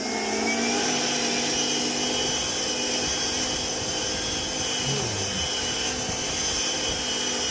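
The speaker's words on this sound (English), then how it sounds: "the Ego bristle brush with my multi-tool. We're gonna use it to clean the turf" An Ego bristle brush attachment on a battery multi-tool scrubs artificial turf outdoors, giving a steady, loud whirring motor drone with a constant brushing hiss that runs unbroken throughout.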